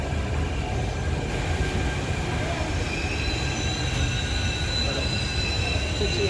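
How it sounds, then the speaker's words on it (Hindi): A metro train runs on its rails with a steady loud rumble and high wheel squeal held throughout, heard from inside the carriage with no clear talking. "हम जा रहे हैं मेट्रो में।"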